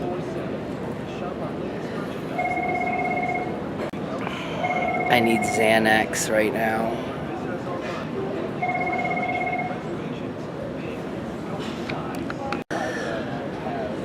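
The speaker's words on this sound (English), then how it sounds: "I couldn't stand hearing that phone" An old-style telephone gives a traditional double ring, repeating three times in short bursts while people talk and move nearby, with a clattering noise in between.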